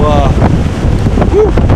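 Strong hurricane wind during Hurricane Katrina roars into the microphone in a loud, buffeting gust, heavy broadband rushing with brief tonal whistles and a voice faintly under it.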